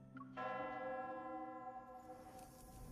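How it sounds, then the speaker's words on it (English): A wedding bell in the romance game Love and Deepspace rings out with a sustained, shimmering tone that swells and slowly fades, reverberant and fairly faint. "The bell of vows rings, its echoes traveling to deep space as snowflakes continue to fall"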